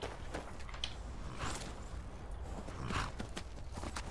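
Horse hooves clip-clopping at a steady walking pace in the video game Skyrim, faint and even, with no talk over them.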